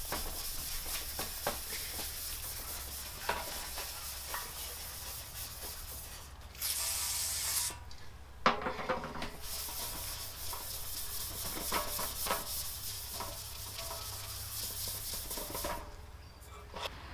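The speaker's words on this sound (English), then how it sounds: "Also just going to use a kitchen scratchy sponge to scuff up the surface." A scratchy kitchen sponge scrubs and scuffs the oily surface of a metal motorcycle fuel tank, a steady close rasping rub that runs almost continuously with brief pauses and a couple of louder sharp strokes.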